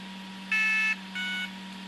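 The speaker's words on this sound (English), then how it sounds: "Hold the button down until it starts beeping." A Viper Copperhead-R RC speed controller gives two short electronic beep tones on entering calibration mode, the first louder and longer, the second softer, over a faint steady electrical hum.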